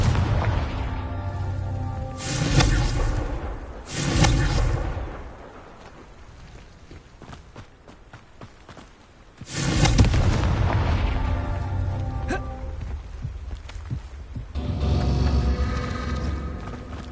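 Confringo fire spells burst in Hogwarts Legacy, several loud booming blasts with rumbling tails, arriving in irregular bursts separated by quieter stretches.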